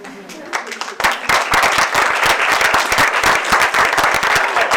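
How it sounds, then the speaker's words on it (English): An audience at a political rally claps in a sudden burst that quickly swells into loud, sustained applause, sharp individual claps crackling close and dense throughout. "can we just give a bigger round of applause for everyone"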